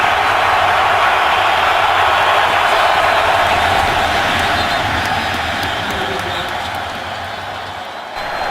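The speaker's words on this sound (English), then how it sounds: "This crowd is loud" A loud, roaring NFL football stadium crowd at a Steelers–Packers game in Green Bay fills the space with a constant wash of noise that slowly fades slightly toward the end, with some voices underneath.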